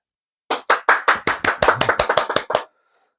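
Church congregation clapping hands in rhythm, sharp close claps starting after a moment of silence and speeding up into a quick cluster before stopping cleanly, with a faint hiss after.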